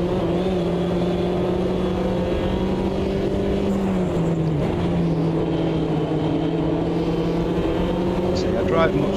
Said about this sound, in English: the glorious little French four cylinders screaming the heads off